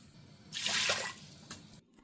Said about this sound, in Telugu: దీంట్లో ఆవిరి పెట్టుకోవడానికి ఇది ఒకటి పెట్టి ఒక 2 గ్లాసులు